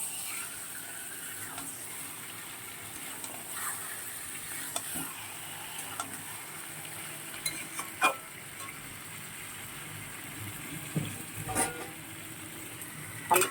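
Turmeric-and-lime-coated chicken goes into a hot frying pan of partly cooked masala. A soft, steady sizzle runs throughout, with scattered stirring scrapes and clinks and a few louder knocks near the end.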